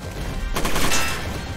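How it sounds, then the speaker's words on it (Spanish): Gunfire from mechs in the tactical video game Front Mission 1st: Remake, a short burst of crashing shots that begins abruptly after a quiet start and then trails off, close and fairly loud. "Ahora te disparo."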